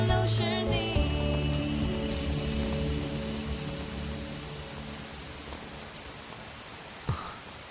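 Steady rain falls as a dense, even hiss throughout, with a few low tonal sounds fading out early and a brief knock near the end; no one speaks.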